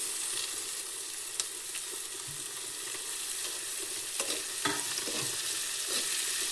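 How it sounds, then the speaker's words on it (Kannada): Tomato frying with onions in a pan for avarekalu upma gives a continuous, fairly soft sizzle with a few stirring scrapes and clinks, steady and close with no talking. "ಇವಾಗ ಟೊಮೊಟೊ ಹಾಕ್ತಿದ್ದೀನಿ."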